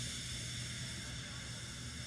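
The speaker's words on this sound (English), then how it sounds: "He just let off steam feebly." A toy wooden railway steam engine lets off steam in a steady, soft, continuous hiss with no break.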